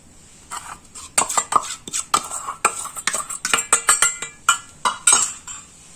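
Spoon stirring karanji filling with powdered sugar in a metal pan, a rapid series of close clinks and scrapes against the pan, steady and rhythmic.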